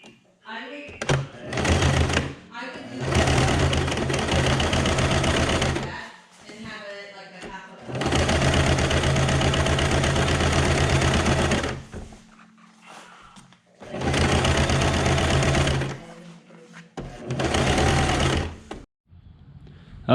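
Sewing machine stitching a marine vinyl boat seat cover with double and triple stitched seams, running in several loud sustained bursts separated by short pauses and handling noises.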